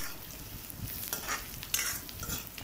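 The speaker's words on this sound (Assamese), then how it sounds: "কেঁচা জলকীয়া দি অলপ ভাজি ল'লোঁ" Green chillies frying in a pan with bay leaf for a dry fish chutney, a soft steady sizzle with light stirring scrapes, close and fairly quiet, no talking.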